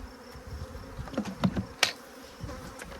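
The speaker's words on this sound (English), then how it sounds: "A lot of bees in there still, that's for sure." A low, steady hum of honeybees around a hive, with a few louder buzzes passing close by, continuing without pause.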